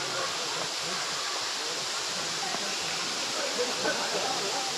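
Sirimane waterfall gives off a constant, even roar of rushing water, heard steadily throughout at moderate distance.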